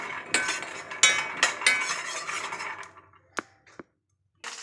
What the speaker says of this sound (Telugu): ఆయిల్ వేయకుండా వేపాలి ఇత్తడిది తొందరగా హీట్ ఎక్కింది కాబట్టి మనం కలుపుకోవాలండి